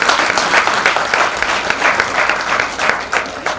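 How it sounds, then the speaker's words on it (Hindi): A crowd at an inaugural ceremony in Udaipur, India, applauds loudly and steadily, many hands clapping together for a few seconds. "उनके लिए मैं चाहूँगा आप एक बार और तालियां बजाएं"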